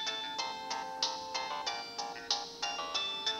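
A phone ringtone plays a repeating bright electronic melody of short tonal notes in a steady rhythm, fairly faint and heard alone.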